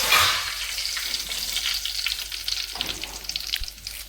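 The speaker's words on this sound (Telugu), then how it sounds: "ఇప్పుడు ఫస్ట్గా మనం ఏం చేద్దామంటే ఎండుమిరకాయలు వేసేసుకున్నామండి." Dried red chillies sizzle and crackle in hot oil for tempering, cooked over a wood-fired stove in a garden; a loud, close, continuous frying hiss with scattered pops and a few stirring knocks.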